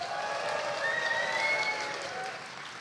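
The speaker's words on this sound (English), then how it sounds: "the audience will erupt into a massive round of applause, stamping feet, whistling, whooping" A conference audience at a lightning-talk session bursts into sustained applause with whistling and whoops, a dense wash of clapping layered with bright tonal whistles, steady and loud for the whole stretch before easing slightly at the end.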